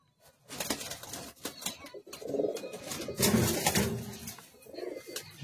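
Pigeons coo in low, soft, repeated phrases at close range, with rustling and light tapping sounds between the calls and no talking.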